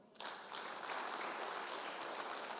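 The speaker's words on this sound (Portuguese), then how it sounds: "As palmas para o Senhor." Applause breaks out suddenly from a church congregation and keeps going as an even, crackling patter of many clapping hands, fairly quiet and somewhat distant, with no speech over it.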